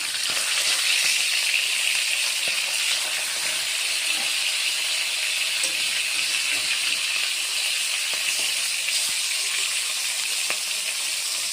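Rohu fish fries in shallow mustard-style cooking oil, giving a steady close sizzling hiss with small pops and crackles that runs without a break and carries no talk.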